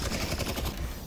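A loud, close burst of rapid gunfire in Half-Life: Alyx, with shots packed tightly together for about a second and no voices over it.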